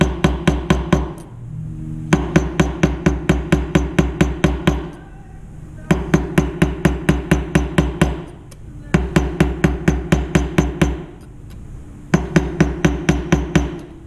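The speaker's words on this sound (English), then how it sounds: "So I can see I'm using this part of my hammer." Loud, rapid metal hammer strikes setting a rivet, in steady bursts of about a dozen blows each, with short pauses between the bursts.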